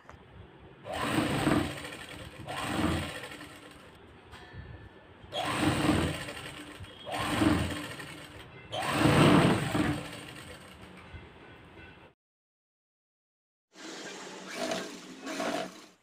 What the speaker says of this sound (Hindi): और इस पर हम सिलाई लगा लेंगे और ये लेस हमें बिल्कुल क्रीज पर रखनी है